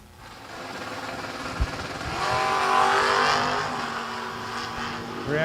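Drag race cars, including a Chevrolet Nova, launching off the line with a loud sustained engine roar that swells and holds, heard at a moderate distance.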